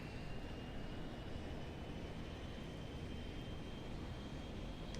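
A DHC Dash-7 turboprop's engines spin up as the propellers begin rotating, heard from inside the cabin as a steady, loud broadband roar with a thin high whine running through it.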